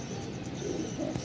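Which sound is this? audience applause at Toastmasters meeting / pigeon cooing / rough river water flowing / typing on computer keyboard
pigeon cooing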